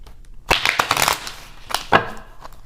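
Tarot cards being shuffled during a spiritual reading, several short riffling bursts close by.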